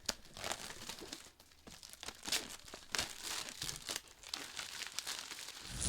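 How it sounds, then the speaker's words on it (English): Plastic shrink wrap crinkles and tears loudly and continuously as it is stripped from two Taschen Marvel Comics Library hardcover books, X-Men Vol. 1 and Silver Surfer, with close, busy rustling bursts and no talking. "Go ahead and get rid of this plastic now"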